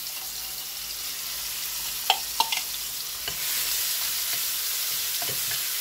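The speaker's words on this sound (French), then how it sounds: "Je vais ajouter ces oignons au cumin en grains." Chopped onions frying with cumin seeds for an egg curry give off a constant hissing sizzle, close and steady, broken by a few sharp utensil clicks midway.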